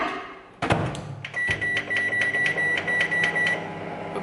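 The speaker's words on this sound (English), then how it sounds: "I cook it in the the microwave." A microwave oven cooking bacon whirs after a click, with a steady electronic hum and rapid clattering pulses running for a few seconds.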